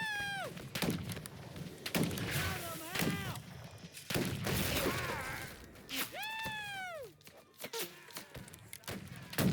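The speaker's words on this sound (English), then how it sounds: "Artillery zeroed in on us." Artillery fire in the Battle Cry of Freedom video game, repeated heavy booms and thuds mixed with musket shots, with players shouting and talking over the battle.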